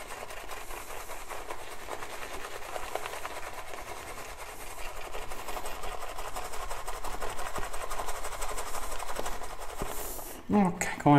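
A shaving brush whips Goodfellas' shaving soap into lather for a traditional wet shave, a continuous, fast, raspy whirring churn close to the ear that builds slightly in intensity, ending with a few sharper clattering knocks.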